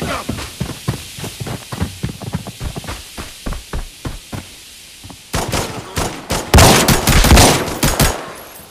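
Sustained automatic gunfire in the shooter game Arena Breakout, rapid bursts of shots spaced across the first half, then denser, louder volleys and heavy impacts closing in near the end.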